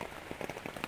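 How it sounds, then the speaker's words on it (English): Heavy rain drumming on a tent at a campsite, dense close patter of drops with no pauses, heard alone in a very brief burst. "It is pouring rain"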